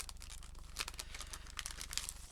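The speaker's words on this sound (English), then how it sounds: "And I save this plastic packaging, and I recycle and reuse it." Plastic packaging from a haul of store purchases is torn open and crinkled close up. The crackling comes in quick, uneven bursts over a low steady hum, with no talking.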